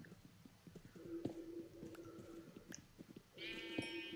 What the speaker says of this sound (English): Hello, sheep that's all of a sudden in the corner of my vision